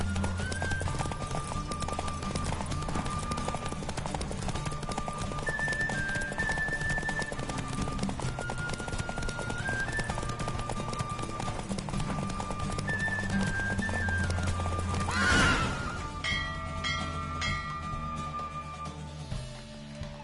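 Horse galloping in the video game Witcher 3, with steady rapid hoofbeats running under game music throughout, a brief louder whoosh near the end.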